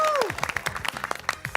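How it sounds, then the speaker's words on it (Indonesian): A studio audience claps for contestants on an Indonesian word-guessing game show, a short burst of applause right after the host's spoken cue. "kita kasih tepuk tangan untuk"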